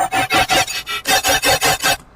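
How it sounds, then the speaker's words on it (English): A harsh, metallic synth tone through a frequency shifter set at 500 pulses in a quick, even rhythm of about ten bursts, with a brief pause midway, then cuts off abruptly. "The frequency shifter is a really cool trick."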